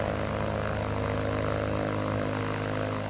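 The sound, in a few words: Cirrus SR22 propeller airplane after landing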